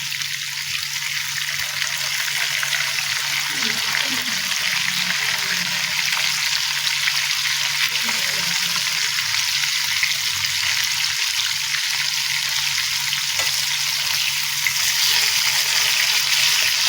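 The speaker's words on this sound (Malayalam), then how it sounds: "നമ്മുടെ ചിക്കൻ ഓൾമോസ്റ്റ് ചെറുതായിട്ടൊന്ന് വറുത്ത് വന്നിട്ടുണ്ട്." Chicken pieces frying in a pan on medium flame give off a steady, loud sizzle and crackle that runs unbroken throughout, with a low hum underneath and no talking.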